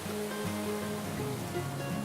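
Alarka Falls pours steadily over moss-covered rocks in a lush, fern-lined forest, a continuous rushing hiss of water with a faint low hum running underneath, heard up close and alone.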